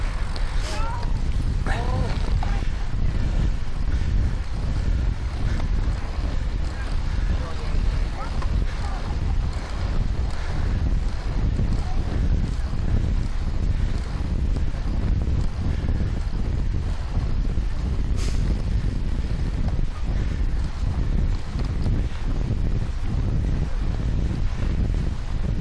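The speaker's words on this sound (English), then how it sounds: "Now we get the wind" Heavy wind roars steadily into the microphone throughout a long stretch of outdoor cycling, loud and continuous with low rumbling gusts.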